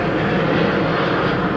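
A fixed-wing airplane passes overhead with a steady, loud, broad engine roar that fills the scene without pause and with no talking.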